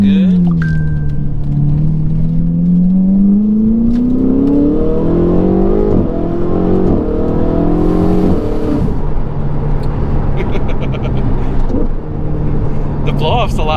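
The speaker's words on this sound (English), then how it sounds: "The blow-off's a lot louder." Ferrari 488 engine revving hard on a test drive, its pitch climbing and surging with a loud blow-off valve whoosh between pulls, heard from inside the car with a voice talking over it.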